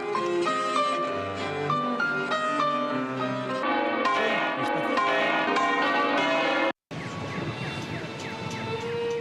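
Bells ring out at a memorial ceremony in Madrid, a steady peal of overlapping tones with a brief cut partway through, heard without talk.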